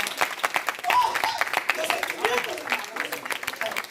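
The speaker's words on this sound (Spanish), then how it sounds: "Denle una ofrenda de aplausos al Señor" A church congregation claps in a sustained burst of applause, dense and fairly close, with voices mixed in under the clapping.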